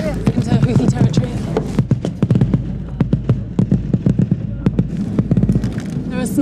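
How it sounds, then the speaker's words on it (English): Mortars fire during combat in Yemen's war, a rapid series of sharp, loud thuds and cracks with no steady rhythm, some close and some further off, while voices talk underneath. "You can just feel the mortars zipping right over our heads into Houthi territory."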